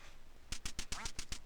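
Quacking ducks from the Nintendo game Duck Hunt repeat in a steady rhythm of about eight loud, buzzy electronic calls, starting after a short quiet stretch with no talk over them.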